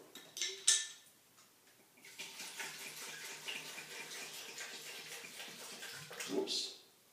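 Milk pours into a blender or glass with cherries for a cherry hazelnut milkshake, a close, liquid splashing gurgle lasting several seconds, with brief clinks before and after.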